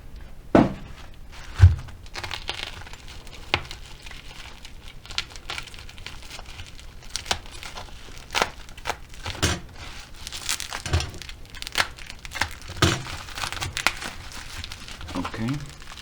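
Paper packaging from an unboxing of a lot of used iPhones crinkles and rustles close up, in irregular crackling bursts and soft thumps as it is handled, with a person speaking between the sounds.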